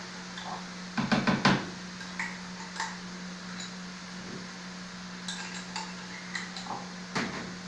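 A metal spoon scrapes and taps against a container while scooping cream cheese for a zucchini fricassee, giving a short cluster of clinks, then scattered light knocks and scrapes over a steady low hum.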